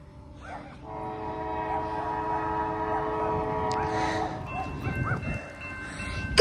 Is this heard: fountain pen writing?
no